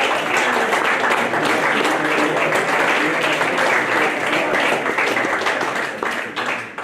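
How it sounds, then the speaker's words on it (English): Upper sixth students in a school society meeting give a round of applause, many hands clapping in a steady, lively wash that holds fairly evenly and then fades slightly at the close. "Upper sixth, please give them a round of applause."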